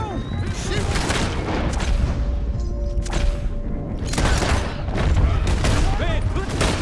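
Gunfire in the video game Red Dead Redemption 2: dense, continuous shots and booming blasts in a chaotic firefight, with shouting voices mixed in.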